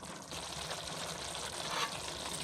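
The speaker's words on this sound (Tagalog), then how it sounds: "Ayan, ayan muna natin kumulo lang." Pork giniling with red and green peppers and green peas simmers in a pan, giving a continuous, even bubbling sizzle that holds steady throughout.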